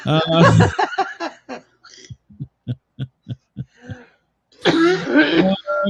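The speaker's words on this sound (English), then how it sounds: "I got a cough." A voice speaks, then a run of short, sharp coughs and throat-clearing sounds, one after another, before talking resumes.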